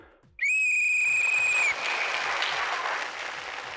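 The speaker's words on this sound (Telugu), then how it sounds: "సో మీ ఇద్దరికి నా విజిల్ ఇప్పుడు." A loud, sustained whistle on a stage at a Telugu children's drama TV show rings out for about a second, followed by a wash of audience applause and cheering that carries on under it.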